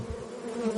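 Bees buzzing in a steady, continuous drone with a faint rising swell toward the end, heard alone without any voices.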